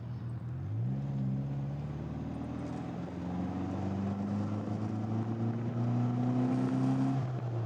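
A 1958 MGA Roadster cruises along country roads, its engine droning steadily and climbing in pitch as it accelerates through the gears, with constant road and wind noise and no talking.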